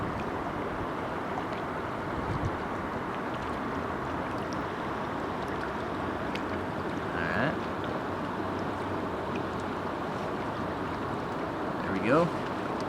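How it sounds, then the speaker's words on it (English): Steady wind blowing outdoors by a river while steelhead fishing, a constant broadband rushing hiss and rumble throughout with no lulls, a couple of faint brief sounds passing over it. "And there is a lot of wind out here too."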